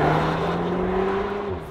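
A 2022 Audi S3 hatchback's engine sound, augmented through the car's stereo, hums as a steady droning tone from inside the cabin, a sustained low whir that stays even and fairly loud for under two seconds without talk.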